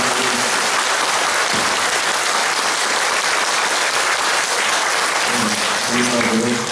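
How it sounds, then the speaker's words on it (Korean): A church congregation claps loudly in sustained, dense applause that fills the whole stretch, with a voice speaking briefly near the end. "우리 한번 정말 멋지게 하나님께 박수 다시 한번 영광을 드립니다"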